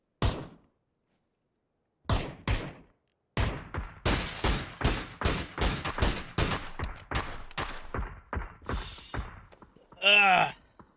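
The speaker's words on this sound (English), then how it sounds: "Where is this boy shooting?" Gunfire in the PC video game PUBG comes as a burst of rapid, sharp shots, with scattered single cracks before it and a final louder blast. The shots are loud and close.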